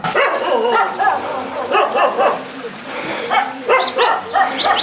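A pack of dogs barks in loud, repeated bursts from several animals at once, close by, along a dead-end sidewalk among houses in Jodhpur, India.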